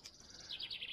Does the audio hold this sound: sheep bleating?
no